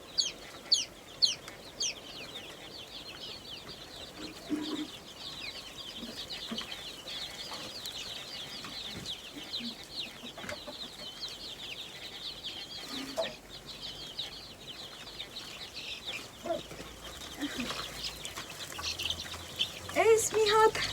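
Hens clucking and cackling inside a backyard chicken coop, a steady chorus of bird calls with occasional wing flaps and rustling as someone works nearby, with brief talk.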